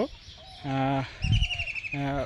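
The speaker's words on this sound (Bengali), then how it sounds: "সকলকে দেখানোর চেষ্টা করলাম একটি হাঁসের খামার" Birds at a duck farm give a few close, harmonic honking calls in short bursts, with a brief rustle and scuffle in between.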